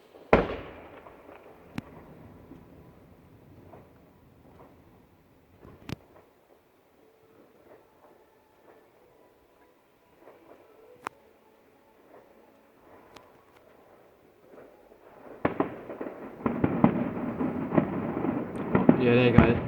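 Fireworks at a public display at Hook Road Arena in Epsom, scattered distant bangs and pops, then a louder, denser burst of crackling toward the end, with people talking at times.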